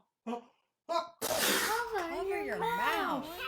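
A child's sneeze that begins with two short, sharp inhaled gasps and then bursts out, followed by a wavering, sung-sounding voice that seems to play along with the sneeze.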